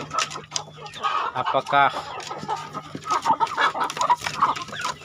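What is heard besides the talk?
chickens and rooster clucking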